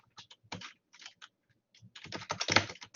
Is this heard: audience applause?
no